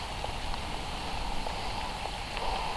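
Rain falls outdoors as a steady, fairly quiet hiss with scattered soft patters of drops, uninterrupted and with no voices.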